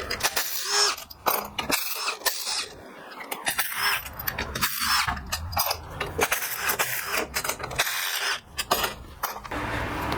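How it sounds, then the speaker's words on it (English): An impact wrench with a 1/2-inch socket rattles out the sump bolts on a blown-up Briggs & Stratton engine. Bursts of hammering ratchet noise are broken by short pauses and clinks of metal close by. "I've got my impact with the 1/2" socket to take off the sump."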